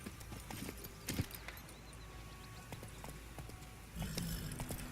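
Roach, the horse in The Witcher 3, clops along with rhythmic hoofbeats that are moderately close and steady, growing a little louder toward the end.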